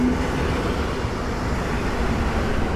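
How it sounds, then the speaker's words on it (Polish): Passenger train to Sochaczew pulling into Warszawa Włochy station: a continuous, loud rolling rumble of rail wheels and carriages, steady throughout with no pauses and no voices. "wjeżdża pociąg osobowy do Sochaczewa"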